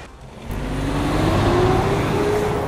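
A car drives past, its road noise swelling after a quiet start and holding loud with a faint rising whine as it goes by.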